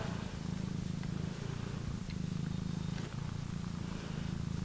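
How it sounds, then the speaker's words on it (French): A small cat purrs up close in a steady, continuous low rumble, soft and alone with no talk over it. "Je dis au revoir aussi à ce petit chat."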